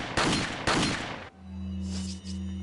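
Red 9 handgun fired in Resident Evil 4, the original game: two loud, close shots with long booming tails, followed by a low steady hum and faint ambient game sounds.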